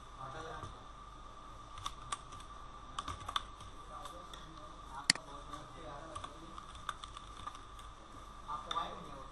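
Rapid, uneven clicks of fingers typing data on a computer keyboard while filling in an Android signup form, close and steady throughout with a few sharper key strikes.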